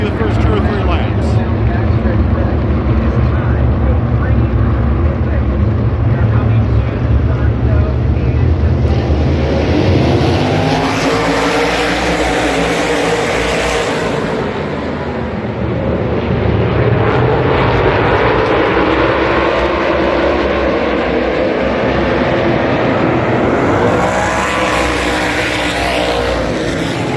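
A car pulls away and drives laps on a track at the SEMA Show, a steady loud engine and road roar that surges and fades as it passes, with talk over it.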